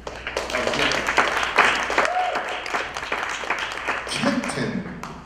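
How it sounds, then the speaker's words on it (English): Audience clapping for the musicians at a jazz flute performance, scattered claps under and between a voice talking, with a few louder bursts. "Please give a big round of applause"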